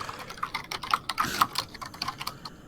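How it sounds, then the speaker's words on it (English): Loud mechanical keyboard typing, a rapid, uneven run of sharp clacking keystrokes close to the mic, with no voices. "Just like type in your keyboard real loud and then cut me off."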